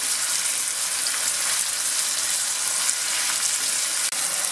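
Ginger garlic paste sizzles steadily in hot oil for brinjal curry, a dense, even frying hiss close by with no talk, broken by one brief clink near the end.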